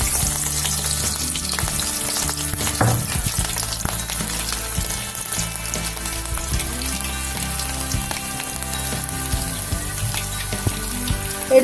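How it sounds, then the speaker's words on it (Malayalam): Garlic sizzles steadily and loudly in hot oil with popped mustard seeds while a Kerala salted mango pickle is prepared, a dense continuous crackle with faint stirring and no talk. "കടുക് പൊട്ടിയ ശേഷം അതിലേക്ക് വെളുത്തുള്ളി ഇട്ട് കൊടുക്കുക."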